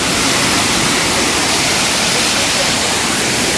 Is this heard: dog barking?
no